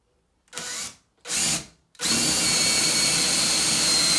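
A power drill whirs in two short bursts, then runs continuously as it bores into material, loud and close.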